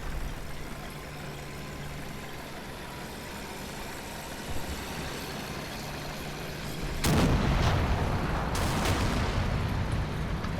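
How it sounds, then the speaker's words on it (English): Artillery fire in the World War II tactical video game Combat Mission Red Thunder, a steady low rumble that swells into louder, harsher booming impacts in the latter part, with no talking. "So we have artillery mission coming in."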